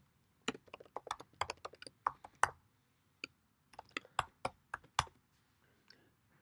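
Crisp, close keystrokes on a computer keyboard come in two rapid bursts with a short pause between them as code gets written. Each click stands out clearly against a near-silent background, and no voice is heard.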